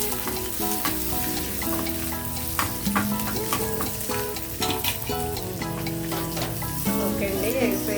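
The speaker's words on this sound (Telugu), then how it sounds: "వెల్లుల్లి వేగిన తర్వాత ఇదిగో జీలకర్ర, ఆవాలు, ఎండుమిర్చి, కరివేపాకు ఇవన్నీ వేగిపోయిన తర్వాత మనం పప్పులకు తాలింపులో వేసేయడమేనండి" Garlic, cumin, mustard seeds, dried chillies and curry leaves fry in hot oil for a dal tempering, giving a steady close sizzle with scattered crackles and pops throughout, while background music plays along.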